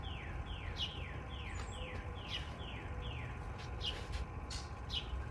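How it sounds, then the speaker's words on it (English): Repeated descending bird chirps, roughly one per half second, over a steady outdoor ambience with low rumble, continuing throughout. "it's picking up the sounds of the birds, but it's a beautiful outdoor ambient kind of sound"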